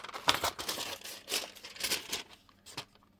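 Scissors roughly cut through a cellophane window envelope up close, giving crinkly, rustling snips in uneven bursts that fade near the end.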